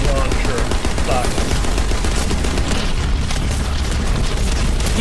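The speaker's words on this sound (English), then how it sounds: "Enjoy that grenade launcher" Dense, continuous barrage of booming blasts and rapid gunfire from a grenade launcher in the sci-fi shooter The First Descendant, loud and sustained throughout with no pauses.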